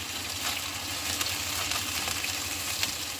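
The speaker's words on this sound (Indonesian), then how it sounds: "Begini. Digoreng. Ini kan dibolak-balik." Meat frying in a pan for the Hong Kong dish Dhong Cho Kwat, with a steady close sizzle and soft scrapes and clatters as the pieces are turned over.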